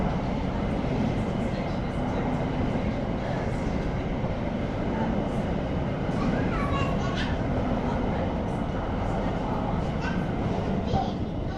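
A 12-car Thameslink train runs through a station on a London line, a steady rumble and wheel noise that holds at moderate volume for several seconds, with faint speech in the background.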